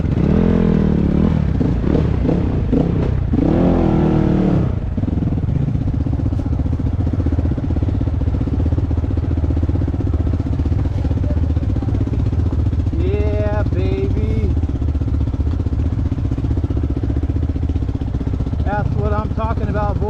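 A 2021.5 GPX FSE450R Chinese dirt bike ridden off-road, its engine droning loudly and steadily throughout with rising revs, under wind and clatter, while a rider talks briefly early on.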